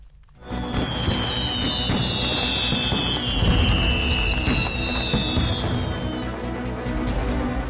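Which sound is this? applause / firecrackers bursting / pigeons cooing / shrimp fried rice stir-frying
firecrackers bursting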